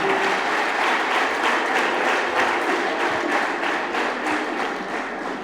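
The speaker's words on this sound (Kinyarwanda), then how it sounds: "Tumwakiriza amashyi n'impundu." An audience at a youth event welcomes a government minister with a dense, sustained round of applause, with brief faint tonal calls near the start and end, gradually easing in volume.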